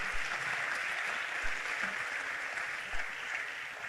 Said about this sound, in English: Please let's keep clapping for him.